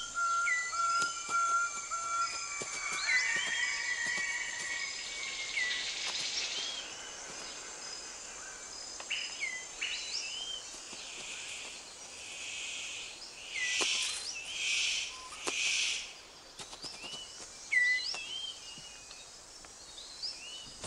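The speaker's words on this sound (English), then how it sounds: "The superb bird of paradise calls to attract a female." A superb bird of paradise calls to attract a female: thin whistles and chirps repeat through a quiet forest, with a few louder bursts of calls in the middle.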